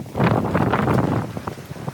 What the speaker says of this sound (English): So the wind's just beating the crap out of me.